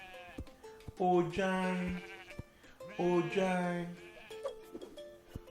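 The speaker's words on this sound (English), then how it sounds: "What noise does the sheep make?" Two drawn-out sheep bleats, one after the other, each wavering and nasal, close and clear against a quiet background.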